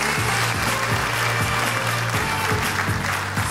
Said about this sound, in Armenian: Ծափարենք եւս մեկ անգամ